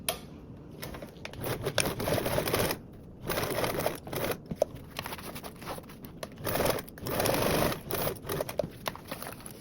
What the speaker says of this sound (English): Now this time we're going to sew with a 1/4 seam allowance.